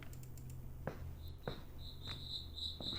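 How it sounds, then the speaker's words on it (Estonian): Grasshoppers chirp indoors in a horror video game, a steady high pulsing trill building over a quiet room tone, with a few sharp clicks and taps scattered through it. "Oota, rohutirtsud on toas."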